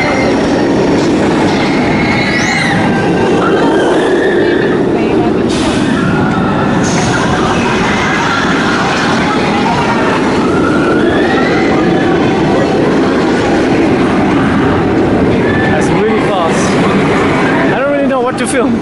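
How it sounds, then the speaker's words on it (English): Roller coaster trains running at the Alton Towers theme park give a loud, continuous rumble with rattling and squealing wheels over track, and voices of people in the queue mixed throughout. "It's 2 trains working."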